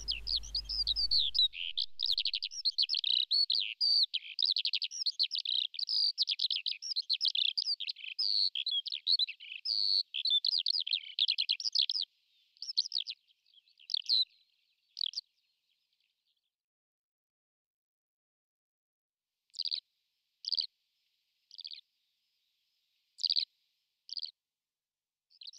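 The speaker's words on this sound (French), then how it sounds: "Le faucon hobereau." A Eurasian hobby falcon on Ouessant, France, gives a fast run of shrill, piercing notes for about twelve seconds, then several short, spaced bursts after a pause, heard alone without talk.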